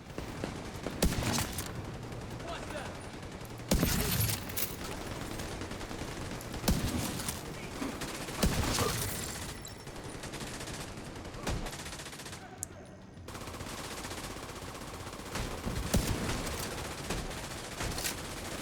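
Rapid bursts of video game gunfire during sniping play, sharp repeated shots over a dense, busy battle backdrop, loud and continuous with brief gaps, little or no talk.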